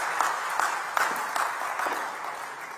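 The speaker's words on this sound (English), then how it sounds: "Let's welcome him with a huge round of applause." Audience applause greets a speaker at an inauguration ceremony for a digital delivery center in Nagpur, a steady broadband clapping from a sizable hall crowd that stays even and fairly loud throughout, with no speech over it.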